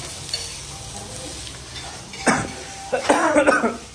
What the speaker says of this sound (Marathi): कांदा मस्त पैकी फ्राय होते.